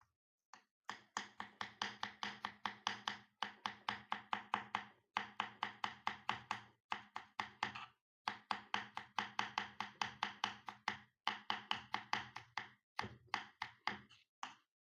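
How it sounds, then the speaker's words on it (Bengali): Coriander leaves chopped with a small knife on a board, rapid rhythmic tapping in quick bursts separated by brief pauses, close and crisp, no voices. "ধনে পাতা কুচিয়ে নেব"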